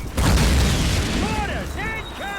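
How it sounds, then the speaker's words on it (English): In the Call of Duty video game, a heavy mortar blast booms out at the start and rumbles on in a broad, loud roar, while shouted voices ring over the din. "Mortars! Incoming!"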